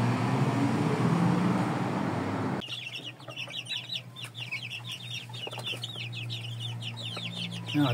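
Chickens, a bought pair of Indio hens among them, cluck and chatter steadily over a low rumbling engine hum from a poultry transport lorry, the loud clucking constant throughout after a burst of broadband noise at the start.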